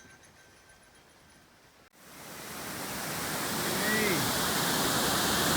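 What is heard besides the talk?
waterfall on a river, Muskego Falls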